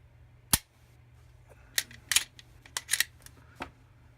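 A Walther PPS M2 striker-fired pistol has its trigger pulled and reset, giving a few sharp close metallic clicks, one crisp snap followed by several lighter ticks spread over a few seconds in a quiet room.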